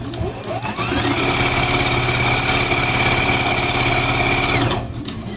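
A sewing machine runs steadily, stitching small pieces for a snowman quilt block, its motor whirring at an even pace for about four seconds before slowing to a stop.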